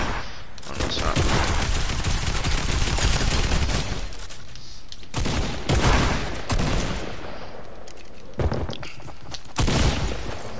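Heavy automatic gunfire and booms in a shooter video game, loud bursts broken by short pauses, with a voice speaking in between.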